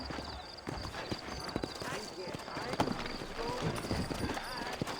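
Steady clip-clop of horse hooves on hard ground in the video game Red Dead Redemption, several animals moving at a walk, with voices talking over the sound.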